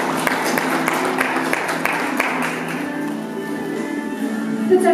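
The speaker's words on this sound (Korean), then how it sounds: "여러분 큰 박수 보내주시기 바랍니다" Audience applause at a volunteer awards ceremony in Eunpyeong-gu, Seoul, a dense crowd clapping steadily for several seconds and then tapering off, with a faint tonal hum underneath toward the end.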